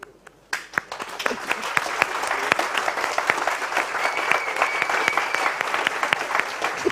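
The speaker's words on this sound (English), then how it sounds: "So let's get up and applause." Applause from a software testing conference audience (Selenium and Appium) starts from near quiet with a few scattered claps, then swells into full, sustained clapping with some distinct close claps popping out.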